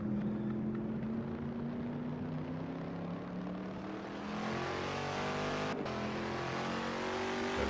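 A race car in Assetto Corsa circles Sebring International Raceway on a slow in-lap: a steady, loud engine drone rises gradually in pitch as it accelerates, with a brief dip near the end, and no voices.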